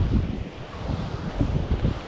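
Wind buffets the microphone at a beach in Riohacha, La Guajira, with low rumbling ocean waves washing underneath, loud and gusty with no talk.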